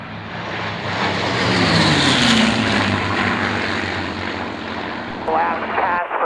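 A four-ship of P-51 Mustang warbirds roars in on a pass at Duxford, the propeller engine drone swelling close and loud, then fading, with a voice heard near the end.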